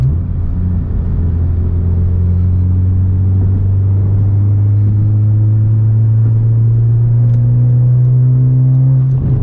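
A 2020 Honda Civic Si in sport mode pulls hard under acceleration, its engine drone rising smoothly and steadily in pitch from inside the cabin, loud and continuous with no talking.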